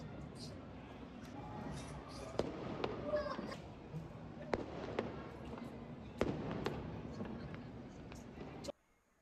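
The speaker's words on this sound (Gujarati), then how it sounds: "ફટાકા." Firecrackers celebrating India's World Cup win, several sharp distant bangs spaced irregularly over a low background murmur of voices and ambient noise, ending abruptly in near silence.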